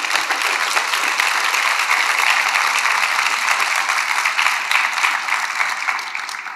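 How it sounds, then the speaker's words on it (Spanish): A church congregation applauds during a sermon, a dense, steady wash of many hands clapping at full volume for several seconds before easing slightly at the end, with no talk over it. "Debería usted darle un aplauso al Señor por eso."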